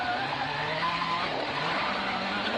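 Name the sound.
WRC rally car tires scrabbling for grip, Portugal Rally stage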